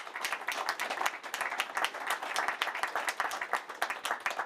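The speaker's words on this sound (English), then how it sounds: "Big round of applause." Applause from a conference audience at a Green Inland Ports final event, a dense, even patter of many hands clapping steadily, moderately faint and heard alone with no talk.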